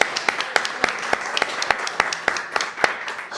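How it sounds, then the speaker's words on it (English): An evening audience at a real estate club meeting in Bulgaria breaks into applause, a dense run of claps with a fairly steady rhythm close by. "Big applause to Vessi"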